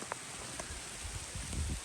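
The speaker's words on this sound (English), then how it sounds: "It's officially raining now." Rain falls in an outdoor setting near old ruins in Guatemala, a faint, steady hiss of drops with a few soft patters close by.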